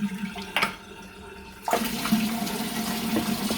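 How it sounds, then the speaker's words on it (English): Water runs steadily from a warm household tap as an aquarium filter part from a Fluval 307/407 canister filter is rinsed under it, starting abruptly after a brief knock, close and continuous with no talk. "I'm just going to literally run it under a warm tap"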